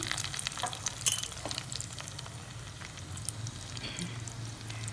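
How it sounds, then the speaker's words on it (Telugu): Chopped onions sizzle in hot oil reused from frying vadas for a masala vada pulusu, a steady close crackle with scattered pops and stirring, no voices. "నూనె అయితే వేడెక్కిందండి. ఉల్లిపాయలు వేసుకున్నాం."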